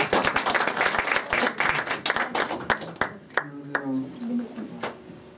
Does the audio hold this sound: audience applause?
yes